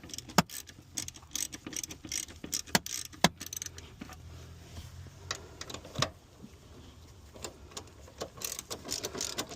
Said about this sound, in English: I'm just going to loosen these up a little bit.